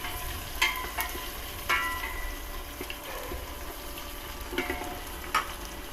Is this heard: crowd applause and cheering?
no